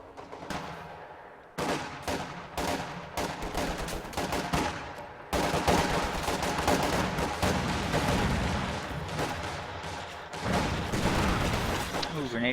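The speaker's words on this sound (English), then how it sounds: "Ooh, grenade goes off on those penal battalions." A grenade explosion and rapid gunfire in a WWII strategy video game, with dense machine-gun bursts and booming blasts continuing over several seconds while a commentator talks.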